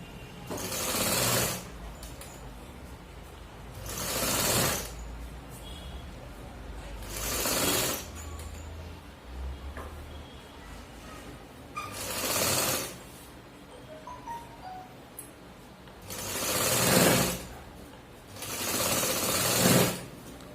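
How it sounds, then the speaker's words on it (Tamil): Sewing machine stitching a blouse runs in short bursts of rapid whirring, about six separate runs spaced a few seconds apart with quiet pauses between, close and clear. "அது மாதிரி முண்டாலேயும் 2 தையல் போட்டுருங்க."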